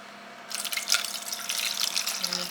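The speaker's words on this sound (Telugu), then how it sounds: "సో అందులో వాటర్ వేసేద్దాం." Water pours into a pot of raw mango pieces, a steady splashing and trickling that starts abruptly after a brief quiet moment and continues close and fairly loud with no talk.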